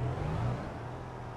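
Tractor engine driving in the Farming Simulator 22 video game: a steady low mid-pitched motor hum with a faint whir, running evenly and alone throughout.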